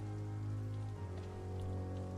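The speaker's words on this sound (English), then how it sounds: "Can you guys stop hanging out in the damn rain?" Steady rain falls in the game Vampyr, a continuous wash of drops over a low music-like drone, heard throughout without any talk.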